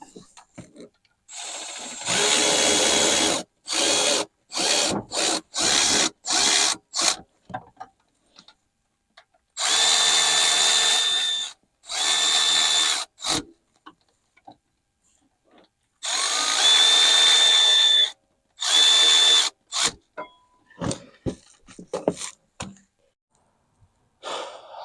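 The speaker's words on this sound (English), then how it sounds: "I'm going to put the electric ratchet on there now to tighten them" Electric ratchet on a 2008 GMC Savana 2500 van whirs in repeated short bursts as bolts are tightened, with longer runs between pauses, loud and close.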